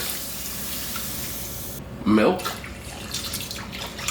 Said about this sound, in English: So now we're gonna add the liquid that we're gonna be cooking with. Evaporated milk,